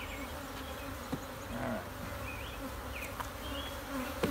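Honey bees buzz in a dense, continuous drone around an open, testy hive during a honey pull, with individual bees whining past close by and a single short spoken word.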